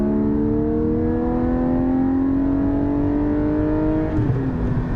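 A Porsche 718 GT4 engine with a Soul Performance race exhaust revs hard and climbs steadily in pitch through 4,000 to 7,000 RPM, a loud raspy exhaust note rising through the gears before briefly dipping.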